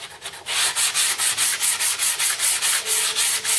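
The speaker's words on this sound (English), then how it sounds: "just take my bit of sandpaper on a plastic, and I'm just going to put a light, slight round" Sandpaper rubs a plastic aileron edge in quick, even back-and-forth strokes, a close, loud rhythmic scratching of about five strokes per second with no talking.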